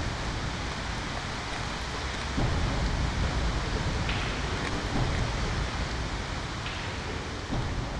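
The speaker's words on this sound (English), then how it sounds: "It's raining." Rain falling on the Norwegian coast near the ocean shore, a steady broad hiss of rainfall with wind-like rumble, constant and fairly loud with no talking.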